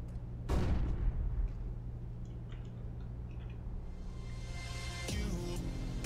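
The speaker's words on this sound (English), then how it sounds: "Throwing flashbang." Flashbang grenade thrown during a Counter-Strike match: a sharp, loud burst near the start, then a steady hiss and faint metallic ticks, ending in a bright crackle near the close.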